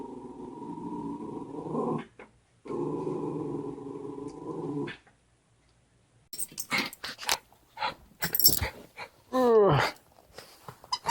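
Dogs at play growl and whimper, starting with long, low rumbling stretches. After a pause come scattered snorts, yips and a rising whine, all fairly close and moderately loud.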